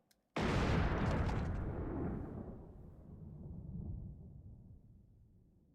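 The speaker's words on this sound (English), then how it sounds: "you just hear the gunshot as he puts a bullet through his head" A single gunshot in a grim, music-free scene of the Trigun anime: one loud, sharp blast that hits abruptly and fades away over several seconds.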